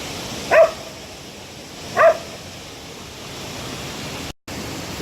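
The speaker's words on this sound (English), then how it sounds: "Stop barking." A silly little pup barks at the water at Economy Falls hiking area: two short, sharp barks about a second and a half apart, close by, over a steady rush of falling water.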